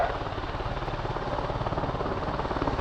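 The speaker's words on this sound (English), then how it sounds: "because of the rotor downwash from what is a large helicopter" A large rescue helicopter hovers at a flying display, its rotors giving a loud, steady, rhythmic thudding beat over a dense roar that holds constant throughout, with no voices.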